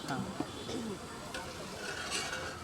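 Crab curry sautéing and being stirred in a pan, a soft steady sizzle with scraping stir strokes, close up, while someone talks over it.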